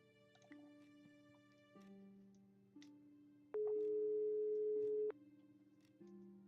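Electronic phone tones from Broken Sword 5: The Serpent's Curse play as a call is placed, a steady series of stepped sine-like beeps shifting pitch, with one louder sustained tone in the middle, clean and close with no talk.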